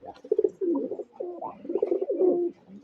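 Pigeons coo close by, a soft, throaty rolling burble that rises and falls continuously for a few seconds.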